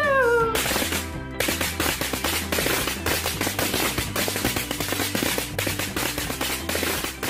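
A rapid string of loud popping firecracker bangs crackles in a fast, uneven rhythm on New Year's Eve, following a brief meow-like whine at the start.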